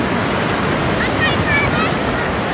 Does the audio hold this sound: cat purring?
no